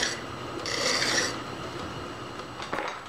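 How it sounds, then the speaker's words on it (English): Hand file rasping across the sharp edge of a metal wire-brush lathe mandrel, a steady scraping stroke followed by lighter rubbing passes, close and alone with no talk. "Let's knock that sharp edge off while we're thinking about it."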